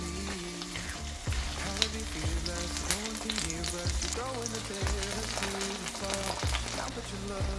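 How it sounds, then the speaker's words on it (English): Meat sears in a hot pan, a continuous sizzle running beneath loud pop music with a steady beat and singing. "Sear the meat on both sides."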